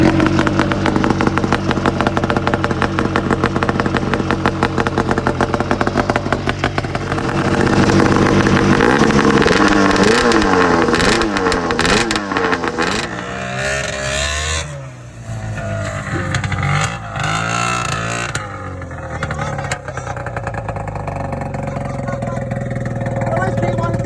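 Small snowmobile, ATV or dirt bike engine running after carburetor cleaning and pull-starting with the exhaust refitted, a loud close idle with clattering that revs up and down in uneven bursts before settling.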